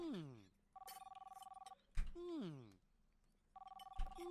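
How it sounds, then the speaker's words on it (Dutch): A phone rings repeatedly in the Kebab Chefs restaurant simulator game, two steady bursts of electronic bell tone separated by pauses, while people talk loudly over and between the rings. "Ik hoor de hele tijd een telefoon."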